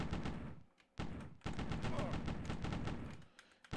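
Automatic rifle fire from an M16 in a video game, dense repeated bursts with brief pauses, loud and close, a voice briefly audible between volleys.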